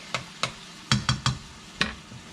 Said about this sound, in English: But we really want to brown this meat and caramelize the onions